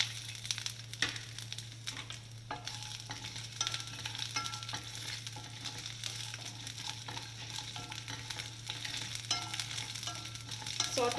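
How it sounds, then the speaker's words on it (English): Ginger and garlic sauté in a hot pan for a Palak Paneer base, giving a steady close sizzle and frying hiss broken by frequent scrapes and stirs of a utensil, with a low constant hum beneath and no talking. "Saute them well, the garlic and ginger."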